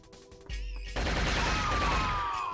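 Assault rifle fire in the game Shogo, a loud, sustained automatic burst that starts abruptly after a short lead-in and keeps rattling steadily to the end.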